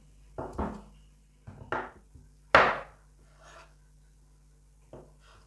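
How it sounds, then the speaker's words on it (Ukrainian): A knife cutting large potatoes into halves, four or five distinct thuds of the blade hitting a board at uneven intervals, close and fairly quiet against near silence. "У мене картопля досить великих розмірів, тому я перерізую і ось на такі половинки буду нарізати"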